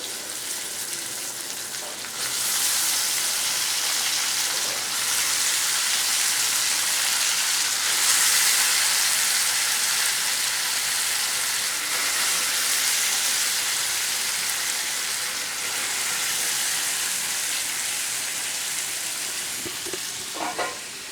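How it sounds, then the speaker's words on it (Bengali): Boiled taro leaves go into a hot pot and set off a loud, continuous sizzle with stirring scrapes, rising after a quiet start and holding steady for a long stretch, with no talking. "সিদ্ধ কচু শাক এবার দিয়ে দেবো এর ভিতরে"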